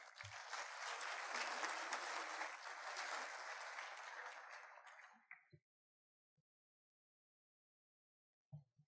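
Audience applause at the SET EXPO 2016 opening ceremony in Brazil, honoring the president of the Brazilian Society of Television Engineering. The clapping is loud and dense for about five seconds, then fades out quickly. A few faint knocks follow in near silence.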